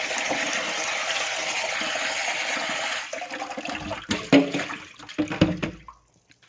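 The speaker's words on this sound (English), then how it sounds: "I will wash the potatoes with cold water to remove some remaining starch." Cold water gushes steadily for a few seconds, then stops, followed by scattered wet clatters and splashes as sliced potatoes are rinsed and handled.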